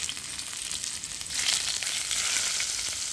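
Ingredients for thiyyal frying in hot oil, a steady bright sizzle and crackle that swells slightly louder partway through, close by with no talk.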